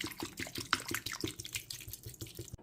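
Water poured into a cooking pot while making placali/fufu sauce, a close, quiet trickling splash with small drips and bubbling, lasting a couple of seconds before stopping.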